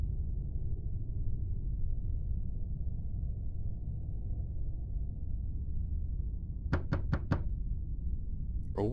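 Four quick knocks on a door in the indie horror game The Hotel, sharp and evenly spaced near the end, heard over a steady low ambient drone with no talk.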